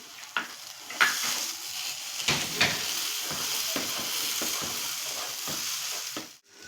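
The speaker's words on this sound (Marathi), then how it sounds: "आपल्याला रवा हा खरपूस भाजून घ्यायचा आहे, लालसर छान" Semolina being roasted with sliced cashews and almonds in a pan for sheera, giving a steady close sizzle and hiss with scraping stirs scattered through it and no voices.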